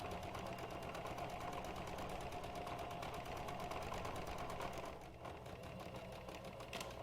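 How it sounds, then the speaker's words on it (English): A sewing machine stitches the last side of a cloth face mask, giving a steady rapid mechanical whir for about five seconds before it eases into a softer, lighter running sound. "We're going to sew up that final side."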